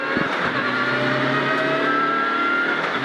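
A rally car at the 2016 Rallye Médoc accelerates flat out from the start, its engine roaring loud, close and unbroken throughout.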